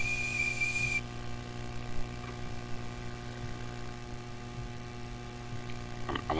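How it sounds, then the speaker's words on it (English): A tea kettle whistling on a stove in a video game, a shrill steady tone that holds for about a second and then cuts off abruptly, leaving a quiet hum. "Ah, yes, I forgot I put the tea on the kettle."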